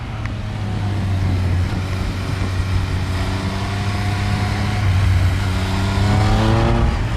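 A Triumph Speed Triple 1050 RS motorcycle engine on a road test ride, a loud continuous drone that holds steady and then climbs in pitch as the rider reaccelerates, with wind rush throughout.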